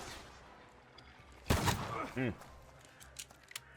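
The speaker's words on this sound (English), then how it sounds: "those rifles really pack a wallop" Rifle fire in the video game The Thaumaturge: a sudden loud volley of shots bursts out over a quiet background, followed by shorter reports and brief vocal sounds.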